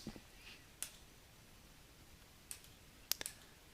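A computer mouse clicks a few times, sharp and close, with a quick pair of clicks near the end against a very quiet background.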